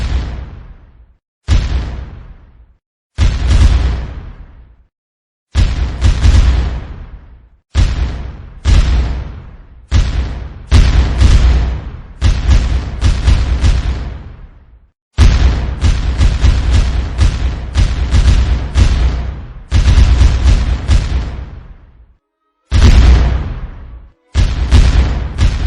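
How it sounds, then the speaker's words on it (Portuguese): Cannon fire in a recreation of the Battle of Riachuelo, a naval battle on a river with Paraguayan forces, heard as a long series of deep booms, some single and widely spaced, others in rapid clusters, each followed by a fading rumble, loud and close. "ocorreu o primeiro combate com tiros de canhão"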